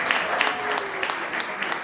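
Audience applause at a charity networking event, steady dense clapping from a crowd throughout, with faint voices mixed in underneath.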